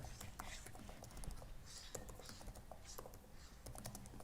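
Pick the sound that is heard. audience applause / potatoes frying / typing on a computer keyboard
typing on a computer keyboard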